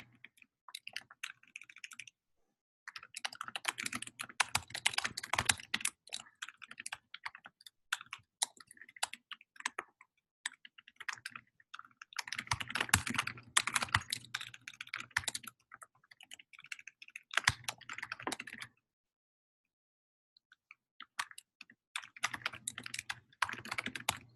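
Close typing on a computer keyboard during a coaching call, quick runs of clicking keystrokes in several bursts separated by short silent pauses.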